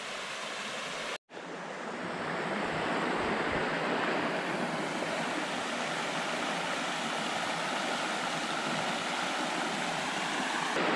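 A creek at a Florida camping spot rushes steadily, a broad constant wash of flowing water with wind mixed in, moderately loud and unbroken after a brief gap near the start.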